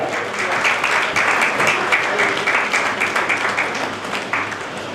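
Loud, sustained applause from an audience at a school teacher and student award ceremony, dense clapping filling the whole stretch with a faint voice underneath.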